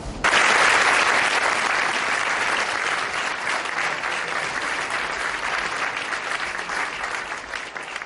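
The general assembly of the International Criminal Court's states parties applauds the election of Sidiki Kaba as its president. Sustained, dense clapping from a large hall continues evenly throughout.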